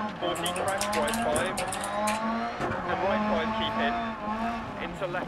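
A rally car in the racing game DiRT Rally revs and shifts through gears, engine pitch climbing and dropping repeatedly with brief tire noise, while a voice talks over it.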